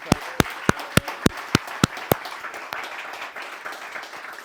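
Slow, loud single claps ring out one by one at a business talk, about nine evenly spaced sharp hits before a softer, scattered patter of audience clapping carries on underneath.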